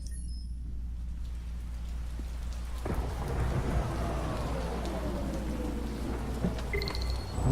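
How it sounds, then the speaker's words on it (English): Steady rain pours through a dark night scene in the video game Detroit: Become Human, a constant dense hiss that swells slightly midway, with faint rumbling and a few distant tones beneath it. "This game really likes rain."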